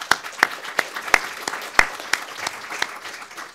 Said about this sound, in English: Another round of applause while we welcome...